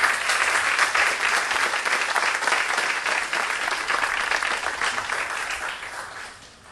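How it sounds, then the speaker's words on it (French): Loud, dense applause from a crowd at a public square inauguration, sustained evenly for several seconds before tapering off slightly at the end. "On les applaudit."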